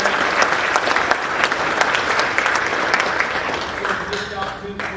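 A town hall audience gives volunteers a warm round of applause, a dense, steady wash of clapping that slowly tapers toward the end, with faint voices underneath.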